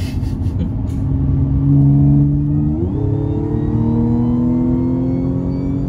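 An Audi S5 V6T coupé with a turbocharged V6 accelerates hard, its engine note droning loudly and rising steadily in pitch through the gears, heard from inside the car.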